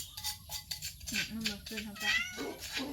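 A cat meows several times in a row, close and fairly quiet, its rising and falling calls set against soft background noise and faint voices.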